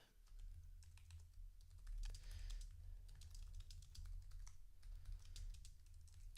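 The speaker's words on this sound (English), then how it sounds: "I'm typing right now." Someone types on a computer keyboard close by, quick irregular key clicks in short bursts over a low steady hum.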